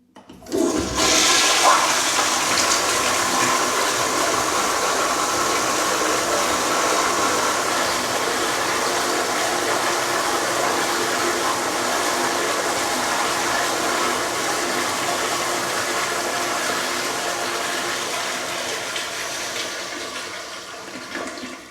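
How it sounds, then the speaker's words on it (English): A Zurn commercial toilet with a fault that makes it flush far too long lets out one loud, steady rushing flush that runs close and unbroken for over twenty seconds, easing only slightly near the end, with no talk. "That was a very long flush."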